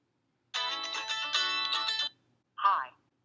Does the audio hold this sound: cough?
no